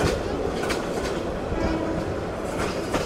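From inside the Mohanganj Express passenger train, steady wheel rumble and clickety-clack go on while the train slows to a crawl entering Rajendrapur station, with faint squeals here and there and a voice now and then.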